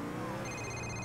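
A GTA 4 phone rings as Dimitri calls, a brief steady electronic ringtone under faint background game sound.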